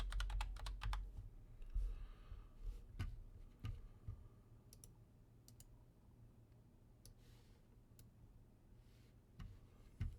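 Quick bursts of keyboard typing, clicking keys close by in short runs with brief pauses, then fading to a quiet room hum.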